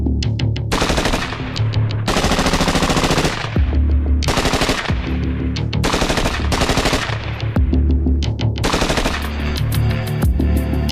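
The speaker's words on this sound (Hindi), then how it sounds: "1 मिनट में मशीन 100 या 200 नहीं 700 राउंड फायर कर सकती है।" An indigenous JVPC carbine fires repeated loud bursts of rapid automatic rounds, with short pauses between strings of shots.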